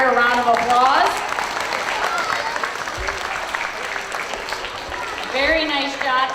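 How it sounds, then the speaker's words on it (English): An audience at a school Student of the Month ceremony applauds award-receiving students with sustained, moderately loud clapping, while voices speak over it at the start and end. "Let's give everyone today who received an award a round of applause."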